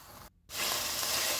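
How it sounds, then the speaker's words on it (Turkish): Rice sautéing in butter in a pot for Turkish iç pilav, a brief sizzle interrupted by a short gap, then a bright, steady hiss of frying. "Güzelce tereyağı ile kavuruyorum"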